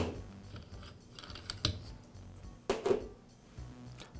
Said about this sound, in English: I'll depress the lock button and use the spanner wrench to remove the nut.